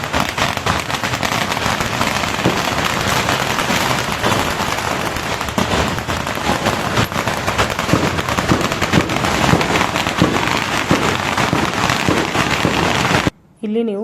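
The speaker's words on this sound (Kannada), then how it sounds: "ಇವತ್ತಿನ ದಿನ ಇಲ್ಲಿ ಗುರುದ್ವಾರದಲ್ಲಿ ಬೀದರಲ್ಲಿ ತುಂಬಾ ಪಟಾಕಿಯನ್ನು ಹಚ್ಚಿದ್ದಾರೆ" Firecrackers burst outside a gurudwara in Bidar during Guru Nanak Jayanti celebrations, a dense, loud, crackling barrage that runs without pause before cutting out abruptly near the end.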